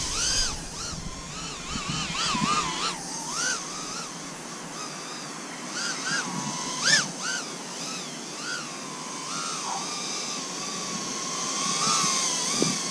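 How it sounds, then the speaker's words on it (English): An FPV quadcopter on a FlexRC Ascent frame with Gemfan Hulkie 1940 propellers whines through flight, its motor pitch sweeping up and down with throttle changes in a continuous, moderately loud buzzing drone. "Props sound pretty quiet, smooth."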